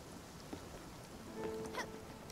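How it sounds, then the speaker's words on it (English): Soft, steady rainfall patters faintly in Spiritfarer, with a few scattered drips standing out against the hiss. "Rain really ruins a day"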